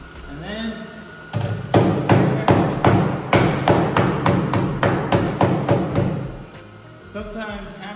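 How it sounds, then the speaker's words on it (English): A rapid series of sharp metallic hammer strikes on a classic car's metal drip rail, about a dozen blows in quick rhythm, loud and close, with brief quieter moments before and after. "sometimes hammering it doesn't help, it just keeps bouncing back."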